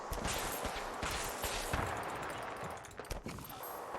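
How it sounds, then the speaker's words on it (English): Rapid bursts of game gunfire crackle continuously, dense and loud, with overlapping shots throughout, in the video game Fallout 4. "There's gunfire behind you, gunfire in front of you."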